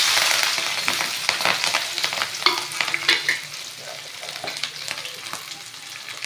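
Mustard seeds, cumin, green chili and onion fry loudly in hot oil, a steady close sizzle with crackling pops and occasional stirring clatter throughout.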